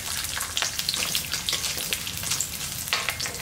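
Urad dal, ginger and garlic frying in hot oil for a coconut chutney, a steady bright sizzle with frequent crackling pops and spoon scrapes, close and continuous.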